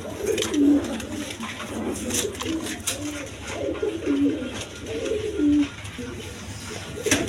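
A pair of black racing pigeons coos repeatedly nearby, soft throaty calls recurring every second or so over a busy background hum.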